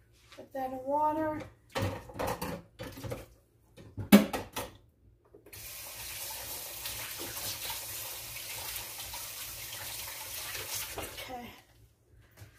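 A kitchen tap runs in a steady stream for several seconds over a dough hook from bread making, following brief speech and a clatter, close and moderately loud.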